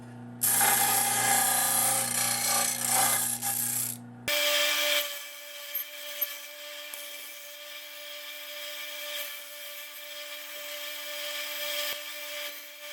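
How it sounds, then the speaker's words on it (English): A sander smooths the jagged edge of a metal template for a motorized bicycle part. There is a loud grinding burst for about four seconds, then a quieter, steady whirring hum with faint scraping contact, close by. "So let's go over to the sander and see if we can take care of some of that."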